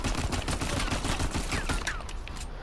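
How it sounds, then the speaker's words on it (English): Rapid gunfire from a weapon in Uncharted 4 cracks out in a fast, dense string of shots, loud and continuous, with barely a gap between rounds and no talking over it. "watch how fast I'm going to fire"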